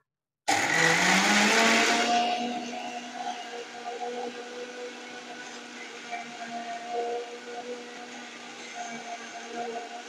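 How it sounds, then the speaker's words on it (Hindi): An electric mixer grinder starts abruptly and whirs at full speed on dry ingredients, a loud high-pitched roar for the first two seconds that settles into a steadier, quieter hum for the rest. "ड्राई इंग्रेडिएंट्स को एक साथ मैं ग्राइंड कर लूंगी, तो ये अच्छे से मिक्सिंग भी हो जाएगा। एकदम फुल स्पीड में इसको ग्राइंड करना पड़ेगा।"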